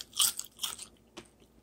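Two crisp, close bites into a salmon skin chip fried in sun-dried tomato canola oil, each a sharp crackling crunch, followed by softer chewing crackles, with no talking.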